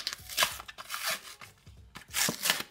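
Unpacking a pink Hot Wheels Fast and Furious Honda S2000 toy car: bursts of crinkling packaging and tearing cardboard or plastic come in close, irregular clusters with short pauses between them and no talking.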